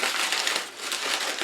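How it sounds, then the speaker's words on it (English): Close, continuous crinkling and crushing of a paper bag crumpled by hand once more, a steady bright rustle with no voices. "And then we're going to crumple it one more time."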